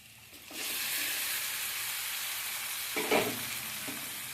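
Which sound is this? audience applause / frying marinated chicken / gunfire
frying marinated chicken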